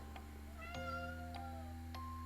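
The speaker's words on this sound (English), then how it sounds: "The cat lets out a displeased mew." A pet cat gives a few displeased mews, tonal and wavering, close by over steady background noise.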